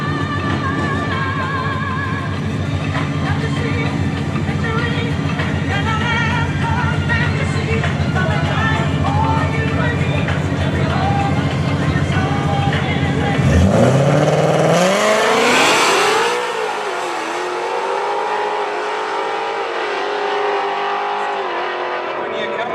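Ford Mustang S550 cars drag racing at a strip: a loud engine drones and builds, then roars up sharply in a rising surge as a car launches and pulls away, while a voice talks over it.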